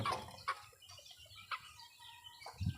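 Chickens and newly hatched chicks are kept in a cramped coop, with soft, fairly faint clucking and brief calls rising now and then over a low background, and no voices.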